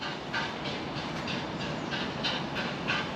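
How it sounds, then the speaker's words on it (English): A freight train rumbles past at a flooded Peterborough location, a steady broad roar with faint rhythmic clicking of wheels on rail joints, continuous and moderately distant. "there's a freight train coming along this bit"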